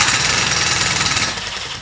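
Electric screwdriver set to high torque, impact-hammering as it drives a screw into wood, giving a loud continuous rapid rattling buzz close to the mic that eases off near the end.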